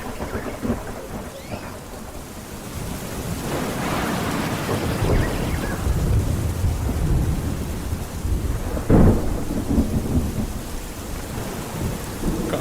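Heavy rain pours steadily in a dense wash of noise, with deep rolls of thunder building and a loud crack near the middle, set as a storm scene in a radio drama.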